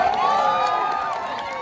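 A Renaissance Festival crowd cheers on cue, with whoops and raised voices swelling together in a loud, sustained outdoor roar and only light clapping.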